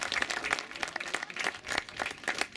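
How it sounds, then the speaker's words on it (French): Spectators at a cycling race award ceremony clap for the winner, a brief burst of distinct, somewhat sparse hand claps from a modest crowd, close and uneven in rhythm. "Vos applaudissements pour Alexis Renard s'il vous plaît"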